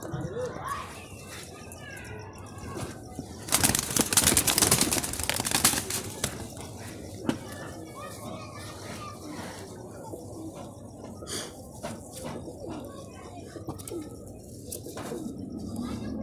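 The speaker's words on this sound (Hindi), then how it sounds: "कबूतर मैंने पकड़ा हुआ है, ये कबूतर।" Pigeons coo softly in a loft while someone talks, with a burst of fluttering and splashing noise in the middle and more faint cooing and chatter afterward.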